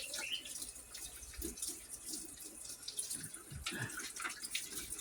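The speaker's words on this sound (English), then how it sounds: "Wash my hands." Water runs from a kitchen tap as hands are washed, a faint, steady rush with small splashes and no talk.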